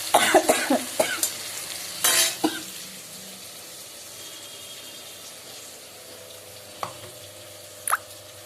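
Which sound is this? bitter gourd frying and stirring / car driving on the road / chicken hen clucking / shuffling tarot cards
bitter gourd frying and stirring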